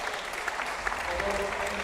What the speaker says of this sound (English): It is once again applause